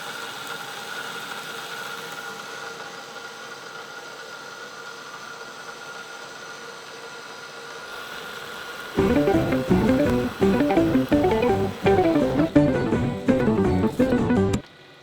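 A machine slowly cutting metal with the cut flooded in coolant, for minting challenge coins: a steady mechanical hum at first, then a louder rhythmic grinding, pulsing chatter from about nine seconds on before it stops.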